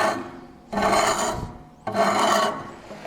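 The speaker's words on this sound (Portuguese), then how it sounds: "Então eu vou fazer aqui a marcação exatamente para a gente poder furar." A compass scratches a 129 mm radius marking arc onto a metal part for a homemade lathe headstock, ahead of drilling. Two close, raspy scraping strokes, each under a second, separated by a short pause, with no talking.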